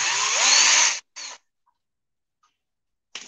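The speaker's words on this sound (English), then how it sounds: "I'm going to turn on my Dremel" A Dremel rotary tool runs in a loud, whirring burst of about a second, then gives a short second burst and a brief start at the end, with silence between.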